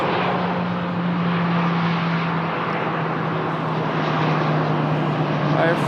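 Transavia France Airbus A320-200 ceo jet at Lisbon Airport, a loud steady broadband engine roar with a low hum running throughout, under ongoing commentary.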